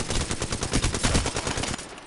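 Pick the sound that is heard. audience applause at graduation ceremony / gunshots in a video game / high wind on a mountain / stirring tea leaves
gunshots in a video game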